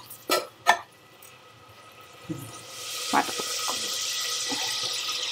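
Water poured from a cup into rice in a cooking pot, a steady splashing, gurgling stream that begins after a few clicks and taps of utensils and continues close by without talk.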